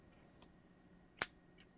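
Scissors snip through yarn at a knitting loom: one faint click, then a single sharp close snip, then another soft click in a quiet room.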